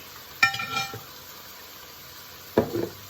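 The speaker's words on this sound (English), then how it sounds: "I'm using this spoon because I want to get all the browning off it." A metal spoon scrapes browned bits from a pan of mince beef in two separate bursts of clinking and scraping, separated by a quiet gap, fairly close and moderately loud with no talking.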